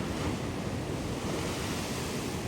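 Sea waves washing onto a beach in Phuket at high tide, a steady broadband surf roar with some wind, continuous and fairly close, no voices.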